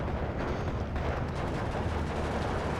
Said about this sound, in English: the 20mm cannon is brilliant for cutting these guys down